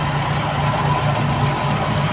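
A Toyota 2E engine idles up steadily after a cold start with the choke valve fully open, giving a continuous, even, close-up hum with no breaks and no talk.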